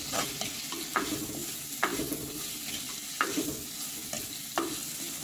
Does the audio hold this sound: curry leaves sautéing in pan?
yes